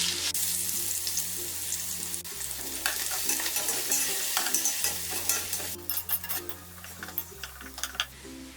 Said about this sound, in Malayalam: ഇനി ഇതിലേക്ക് ഡെക്കറേറ്റ് ചെയ്യാനുള്ള സവാള ഇട്ടിട്ട് ഫ്രൈ ചെയ്തെടുക്കാം